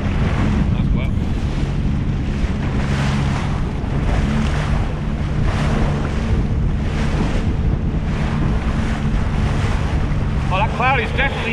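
Loud, constant wind buffeting and choppy waves slapping around a Sea-Doo out on open water, a dense roaring rush with rhythmic wave surges and a brief voice near the end.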